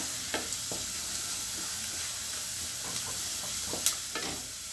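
Onions frying in a pan with chili powder and coriander stalks, giving a soft steady sizzle with faint scraping stirs and a few light clicks, quiet and alone with no talk.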